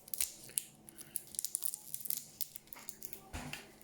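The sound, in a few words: scissors cutting open smoke alarm packaging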